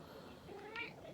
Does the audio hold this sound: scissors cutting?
no